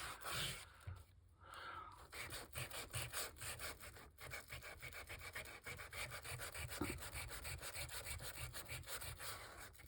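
Sanding disc scraping a wooden surface in rapid, rhythmic rasping strokes that continue without a break for ten seconds. The scraping is close and gritty, and no one speaks.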